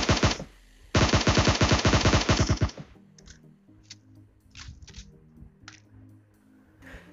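Video game gunfire in PUBG: a short burst, a pause, then a long rapid automatic volley lasting nearly two seconds, loud and close, followed by scattered fainter shots and clicks under quieter game sounds.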